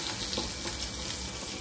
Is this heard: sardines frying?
yes